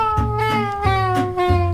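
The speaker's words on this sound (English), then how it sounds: "That was my cat." A cat meowing outdoors near a brick keystone wall being built, three clear, loud, drawn-out meows in close succession, heard alone.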